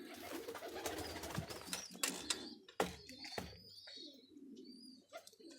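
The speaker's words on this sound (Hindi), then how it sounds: "ये देखिए सब्ज़ गला कबूतर गोल्डन बादी के साथ" Green-necked pigeon with golden body cooing in a breeding setup, soft repeated coos alone amid faint chirps and light rustling, fairly close.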